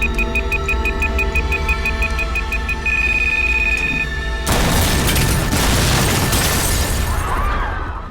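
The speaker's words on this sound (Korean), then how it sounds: "결국 폭탄이 터져버리고 말았죠." A bomb goes off in a tense drama scene: a steady ticking pulse with a rising tone gives way to a sudden loud, sustained blast and debris roar that slowly fades.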